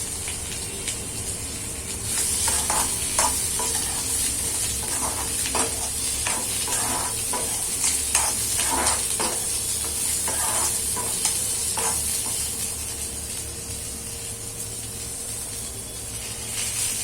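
Onion frying in a pan with ginger and garlic for a dhaba-style egg curry, a continuous bright hiss with repeated spatula stirring scrapes, close and steady throughout.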